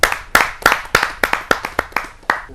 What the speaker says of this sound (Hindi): आइए आप सबकी जोरदार तालियों से।